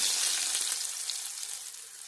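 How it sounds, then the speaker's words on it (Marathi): Garlic and chili tadka sizzles loudly as it is poured over dhaba-style palak paneer, a bright crackling hiss that starts strong and slowly fades away. "इथे आपल्याला तडका टाकून घ्यायचा आहे हा तडका छान बसला की ते छान होते"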